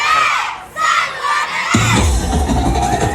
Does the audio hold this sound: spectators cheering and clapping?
yes